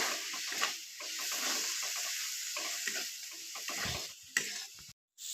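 Kashmiri chili powder and turmeric get stirred into semolina in a hot pan, giving a soft continuous sizzle broken by scraping stirs, with a brief drop-out near the end.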